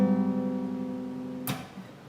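Guitar chord picked on the strings, a sustained ringing chord decaying slowly, then a brief scratchy string noise near the end, close and fairly quiet.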